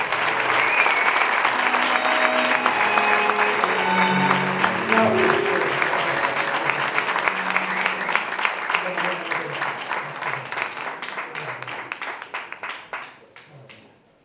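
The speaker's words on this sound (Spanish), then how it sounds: "Recibamos con un fuerte aplauso a don Jesús Barrajón Arreaza." Audience at the opening proclamation of the Almagro fair, August 2024, gives a loud, dense round of applause welcoming a speaker, sustained with crowd murmur and voices mixed in, gradually thinning into scattered claps before fading out.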